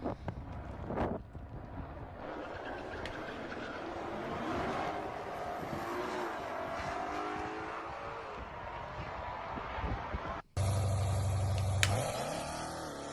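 A Jeep Grand Cherokee Trackhawk's supercharged engine roars and revs with wind rush, running loud and steady, then cuts briefly before a sharper, louder burst with a tonal whine near the end.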